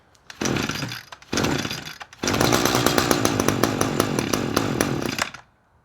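An Echo SRM-225 string trimmer with a carburetor problem sputters to life in two short engine bursts, then runs rough and loud for about three seconds before cutting out to silence.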